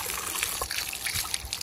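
Water runs steadily from an outdoor tap or pipe on the way to a creek near the Fraser River, a continuous broadband gushing and trickling that stays fairly even throughout with no talk over it.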